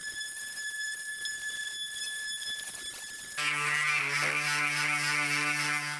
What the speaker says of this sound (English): This is my surf prep sander with this foam pad here